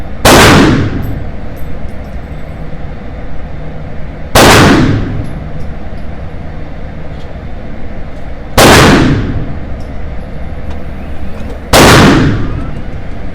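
Four sharp, loud pistol shots from CZ handguns, a Shadow 2 SRO, P-10C and P-07, fired at an outdoor range at 10 yards, spaced about four seconds apart with a decaying tail after each.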